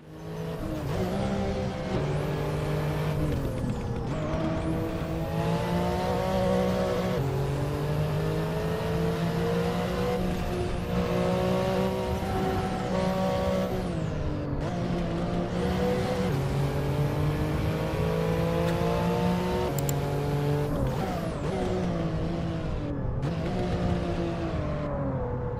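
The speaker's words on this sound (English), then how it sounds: "let you listen to this fantastic sounding Techart Porsche in action" A Techart Porsche 992 from a video game, its engine droning and revving steadily through repeated gear changes and rising pitch sweeps, loud and continuous with no voices.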